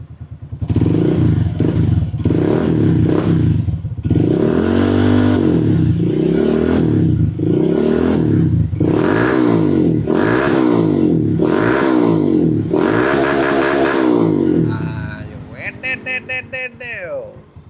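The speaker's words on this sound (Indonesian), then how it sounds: "Sekarang gue kepengen cek sound si knalpot Honda Monkey 125 ini" A Honda Monkey 125 motorcycle's stainless steel exhaust revs repeatedly up and down in loud, rhythmic bursts close by, ending with a brief rattling clatter as the engine settles.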